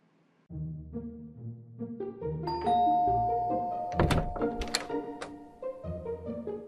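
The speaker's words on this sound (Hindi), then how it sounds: "और अब चलिए बजाते हैं किसी घर की घंटी।" A melodic electronic doorbell chime at a house door rings out, several bright tones in sequence with one held note, close by.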